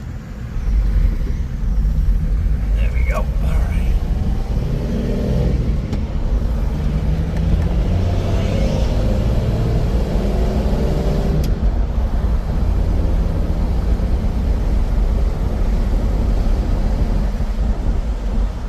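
A 1965 Dodge Dart GT with a factory four-speed and dual Holley carburetors cruising on a test drive, a steady loud interior drone of engine and road noise, with someone speaking briefly early on.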